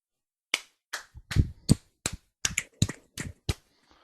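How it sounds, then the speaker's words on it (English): Hands clap about ten times in a loose, uneven rhythm, each a sharp, close crack with brief pauses between, in an otherwise quiet room. "No, I'm clapping."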